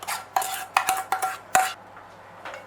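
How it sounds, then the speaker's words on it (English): A spoon stirs sifted flour and sultanas into biscuit mixture in a bowl, making five or six distinct scraping, clinking strokes against the bowl before quieting. "we're going to mix it really well"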